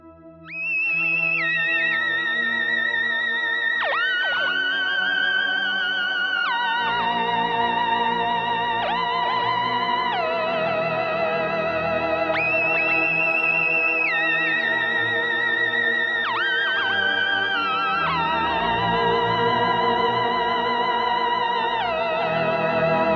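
Electric guitar through a Line 6 Helix with a CE1 chorus set to vibrato plus delay, playing sustained, wavering notes with pitch bends and echoing repeats, loud and continuous with no talking.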